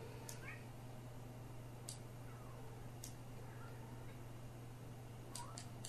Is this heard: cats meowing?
yes